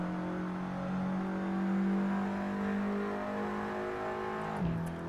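An Audi S3 engine in a driving video game accelerates steadily, its mid-pitched drone rising and holding near and loud for several seconds before a brief dip near the end.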